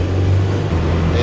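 Simca 1000 Rally 2, a rear-engined car, driving with a steady low engine drone and harmonic hum, loud and continuous throughout.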